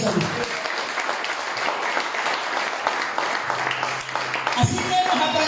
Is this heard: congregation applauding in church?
yes